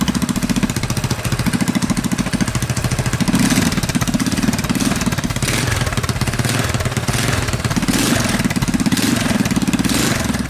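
A modified KT196 go-kart engine with dual exhaust pipes idles and revs close by, a loud, continuous throbbing rumble with rhythmic pulsing that swells and eases in waves throughout.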